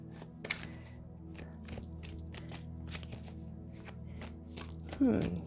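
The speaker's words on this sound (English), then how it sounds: "I'm remembering that I did not shuffle the cards" Tarot cards are shuffled by hand up close, giving a steady run of soft riffling taps and flicks over a low background hum, with a louder rustle near the end.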